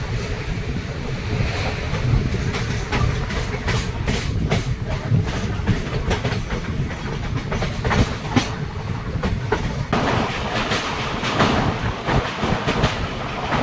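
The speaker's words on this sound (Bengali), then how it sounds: "জয়চণ্ডী পাহাড় থেকে ট্রেন ছেড়ে দিয়েছে" A Tatanagar-Asansol Express train runs on rails near Joychandi Pahar at sunset, a steady loud rumble of wheels and carriage noise with a windy, surf-like roar throughout and no talk.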